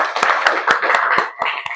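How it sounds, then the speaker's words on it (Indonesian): Children in a classroom clap their hands in a quick, roughly even rhythm of about seven sharp claps, loud and close, with brief gaps between them. "Tepuk tangan dulu"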